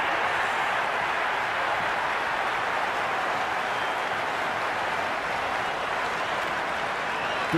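Steady wash of crowd applause and clapping at a Big Bash T20 cricket match between the Sydney Sixers and Adelaide Strikers, dense and sustained from a large stadium audience, with no break throughout.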